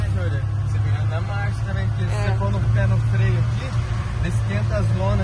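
Ford F-75 pickup holding a gear while descending a steep downhill on engine braking: a steady, low engine drone runs throughout beneath continuous conversation.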